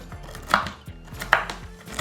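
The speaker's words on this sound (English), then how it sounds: "Do like a little rough chop." Walnuts being roughly chopped with a knife on a board: a few irregular thudding cuts spaced about every half second, close and moderately loud, with no talking.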